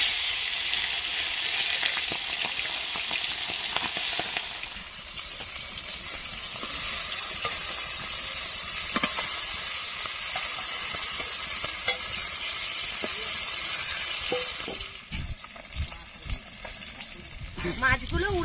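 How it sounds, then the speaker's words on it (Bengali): Pieces of fish rubbed with salt and turmeric sizzle in hot oil in a wok, a loud, continuous crackling hiss with occasional spatters and stirring clatter near the end. "তেল গরম হয়ে আছে, মাছগুলো দিয়ে দেব।"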